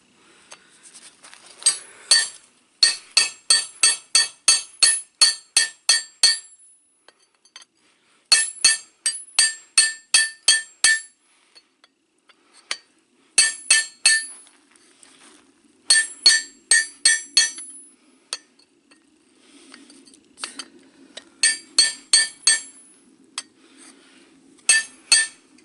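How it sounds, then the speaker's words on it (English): A hammer strikes a massive chisel to score a line in knife steel, sharp metallic clinks in fast bursts of about five to ten blows separated by short pauses, close and clear. "I've already scored a line here with this massive chisel I have."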